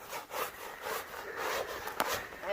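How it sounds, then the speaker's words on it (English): Ice crystals scraped off a tent's fabric after a snowy, cold night in the Wyoming backcountry, heard as close, steady rasping strokes with a sharper scrape near the end, fairly quiet and with no talk. "I have to scrape my tent off because it's like little ice crystals on here."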